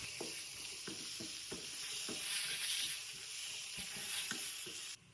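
Sliced tomatoes sizzle and fry in a pan while being stirred, with a steady broadband crackle and regular scraping stir strokes throughout, fairly close and moderately loud, no voices.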